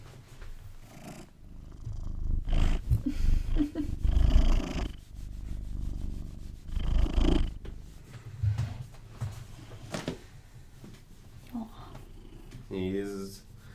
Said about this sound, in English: Listen to him. Purr.